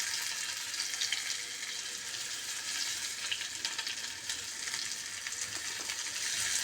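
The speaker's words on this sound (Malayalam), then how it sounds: "ഞാനിപ്പോൾ ആ ഉഴുന്ന് പരിപ്പും കൂടി ഇട്ടിട്ട് അത് നന്നായി ഒന്ന് തുടുത്ത് വന്നു" Urad dal frying in oil in a pan while spinach is cooked, a steady, even sizzle with faint crackles running throughout at moderate, close level.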